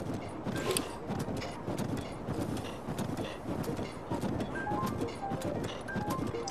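A horse's hooves clip-clop at a steady trot in The Legend of Zelda: Breath of the Wild, over the game's ambient soundscape, with occasional soft chime-like tones and no speech.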